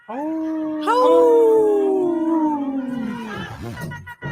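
A single long wolf howl rises, holds and slowly glides downward over about three seconds, close and clear, fading into a brief trailing yelp.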